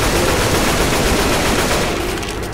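Sustained rapid gunfire in the zombie shooter Left 4 Dead 2, a dense, loud machine-gun fusillade that rattles continuously without pause.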